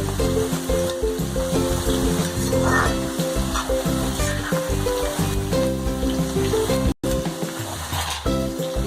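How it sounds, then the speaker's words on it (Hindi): Thick cauliflower pieces frying in a pan over a high gas flame give a loud, continuous close sizzle with stirring and scraping, broken by one brief gap. "फ्लेम मेरा तेज ही है गैस का, क्योंकि मोटी गोभी मोटी है इसलिए थोड़ा टाइम लेगी फ्राई होने में"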